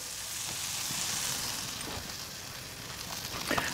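English muffins frying in a pan of bacon fat and butter, a steady close sizzle with faint crackles throughout and a slight stir or shift near the end.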